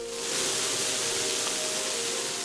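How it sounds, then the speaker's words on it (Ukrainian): Fountains splash in a city park, a loud, continuous rushing of falling water that fills the whole moment at close range, with no voices. "Навколо співають птахи і шумлять фонтани."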